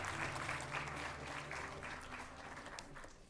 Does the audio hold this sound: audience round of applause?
yes